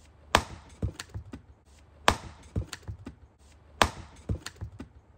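An axe splits firewood in a steady rhythm: three sharp, close strikes about every two seconds, each followed by smaller cracking taps as the wood gives way.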